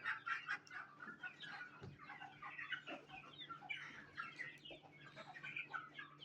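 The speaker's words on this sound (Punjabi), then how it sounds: "ਦੇਖੋ ਬੜੇ ਚਾਵਾਂ ਨਾਲ ਮੁਰਗਾ ਫਿਨਿਸ਼ਰ ਫੀਡ ਖਾ ਰਿਹਾ ਹੈ" A desi rooster clucks repeatedly while eating finisher feed, its short, close calls coming in a busy, uneven run over a quiet background, with no talking.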